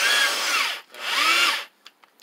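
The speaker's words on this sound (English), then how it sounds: "I'm going to drill some holes here." A power drill whines loudly in two sustained bursts, pitch wavering as it bites, followed by a few faint clicks and taps.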